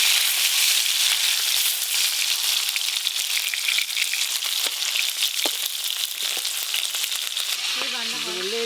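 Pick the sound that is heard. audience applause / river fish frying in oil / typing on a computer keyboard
river fish frying in oil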